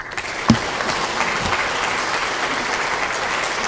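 A political audience at a People Power Party event applauds steadily for Ahn Cheol-soo, a dense, even wash of many hands clapping that holds at a constant level throughout.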